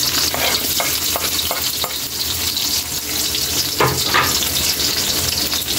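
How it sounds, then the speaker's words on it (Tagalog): Sliced onions sizzle in hot cooking oil for pork binagoongan, a steady loud frying hiss with repeated scrape-and-clatter strokes of a spatula stirring, close up and with no talking. "ilagay na natin yung sibuyas"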